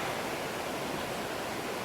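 Gragg Prong Falls in Pisgah National Forest, North Carolina, rushes in a steady, even hiss of falling water, constant and moderately near with no voices.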